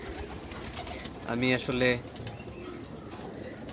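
A pigeon gives a short, clear coo near the middle, made of two close rounded pulses, while someone speaks briefly nearby over quiet background noise.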